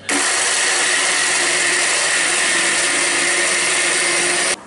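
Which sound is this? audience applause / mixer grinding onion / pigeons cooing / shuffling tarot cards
mixer grinding onion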